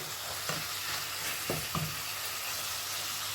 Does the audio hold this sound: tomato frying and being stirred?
yes